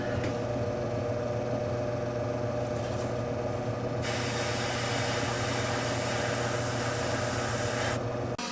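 Spray paint hisses in long steady bursts while a Hummel boy figurine lamp is being touched up, the near, loud spray running over a low constant background hum.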